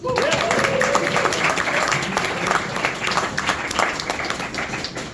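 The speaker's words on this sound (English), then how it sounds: "Round of applause again." Audience applause at a public talk event fills the room as a dense, steady wash of clapping from many people, with a brief tone near the start and a few voices mixed underneath.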